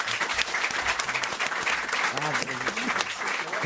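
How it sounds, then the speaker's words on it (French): Studio audience on a French television talk show applauding steadily and loudly, dense clapping throughout while voices talk over the ovation. "on vous applaudit"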